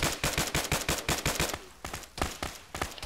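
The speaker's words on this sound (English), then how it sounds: "We're taking fire at this position." Rapid automatic gunfire in the ShackTac military video game, a dense rhythmic burst of loud, close shots that briefly thins before resuming in quick volleys.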